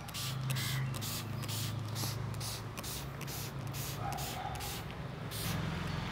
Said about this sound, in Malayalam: നല്ല ഫൈൻ സ്പ്രേ ആയിട്ട് പ്ലാന്റിൽ അഴിച്ചു കൊടുക്കാം.